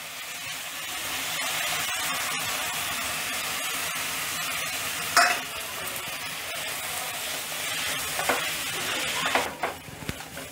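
Chakvat greens with turmeric and red chilli powder sautéing in a pan, a broad continuous sizzle with a few sharp utensil knocks around the middle and a brief burst of scraping near the end.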